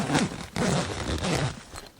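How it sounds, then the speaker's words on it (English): A zipper being pulled closed on a tent pitched on a Toyota Tacoma truck bed, two or three rasping drags in quick succession, close and fairly loud, with no talking. "the way you close this tent is through this zipper right here"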